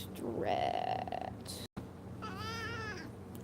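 A cat meows twice up close, one drawn-out call and a later wavering one, over a low background hum with no one talking.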